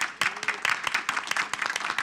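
Applause at a city council meeting greeting a newly confirmed police chief, a burst of many hands clapping in a room, steady and fairly loud across the short moment.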